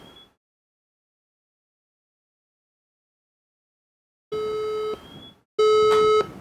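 A DIY controller's alarm output sounds a loud electronic beep, then after a pause a steady tone and a second, stronger beep, each lasting under a second, with no voices.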